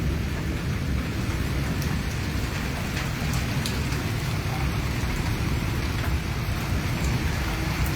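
Heavy thunderstorm rain in Islamabad falls in an unbroken, even wash of hiss and patter, near and steady throughout, with no voices.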